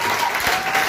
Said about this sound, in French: Acclame très fort. Clap for the Lord.